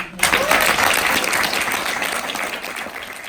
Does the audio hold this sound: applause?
yes